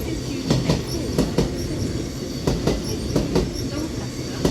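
Steam locomotive 35018 British India Line runs through a station in the rain, with rhythmic clickety-clack of wheels over rail joints and a steady rumble throughout, no voices.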